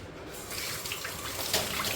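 Tap water runs steadily over jamun fruit being washed, a close, continuous splashing stream with no talk.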